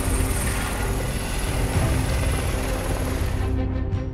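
A helicopter drones steadily and loudly, its rotor chop and engine whine continuous, trailing off at the very end.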